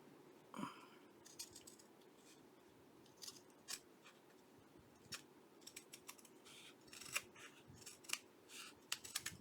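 Scissors snipping paper for a handmade feminine journal, a quiet close run of sharp irregular cuts and crisp paper rustles in an otherwise hushed room.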